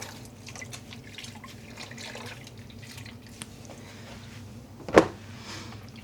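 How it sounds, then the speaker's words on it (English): Water drips and trickles softly from rinsed yarn skeins being squeezed by hand over a sink, a faint steady patter with one sharper splash near the end and no speech. "Squeezing out the water."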